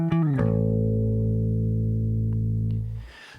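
An electric bass plays a note from a bass line, sliding into one long, loud, sustained low note that rings steadily before fading out.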